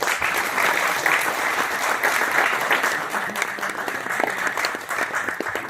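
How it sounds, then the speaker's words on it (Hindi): Steady, vigorous applause fills the hall at a mushaira and kavi sammelan at IIT Delhi, a thick continuous patter of many hands clapping at once that carries on for several seconds. "जोरदार तालियां बजा लें इब्राहिम के लिए"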